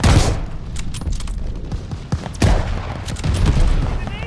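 Rapid machine gun bursts in Call of Duty Vanguard on PS5, loud and dense with heavy low booms, a sharp crack near the middle, then renewed sustained gunfire toward the end.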